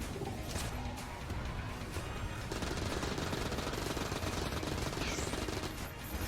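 Rapid gunfire from the twin-stick shooter game Enter the Gungeon: dense, continuous bursts of shots and impacts at a steady loud level, with no voices.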